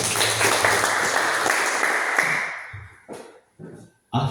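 Classroom applause from students fills the first two and a half seconds as dense, steady clapping, then fades into a few short bursts of noise and a final brief burst.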